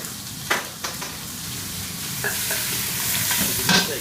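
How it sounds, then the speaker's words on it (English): Onions, mushrooms and garlic frying in a pan, a steady close sizzle broken by several soft scrapes and clicks as a spoon stirs them around. "And I'm just going to give that a stir around."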